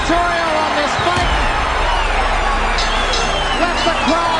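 A boxing arena crowd after the Hagler fight, a dense roar of cheers and shouting with whistles standing out, sustained and loud throughout, with voices talking over it.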